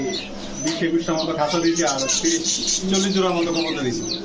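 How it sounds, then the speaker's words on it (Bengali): Caged pigeons coo among about forty birds at a pigeon market, where soft warbling calls mix with people talking close by. "একুশটা খাঁচা চল্লিশটার মতো কবুতর চল্লিশ জোড়ার মতো কবুতর"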